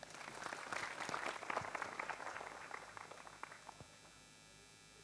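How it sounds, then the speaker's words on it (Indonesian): Crowd at an open-air religious gathering claps to welcome the next group, a distant, fairly faint wash of applause with a few louder single claps that thins out toward the end. "Sekarang saya persilakan kelompok kedua, tepuk tangan semuanya."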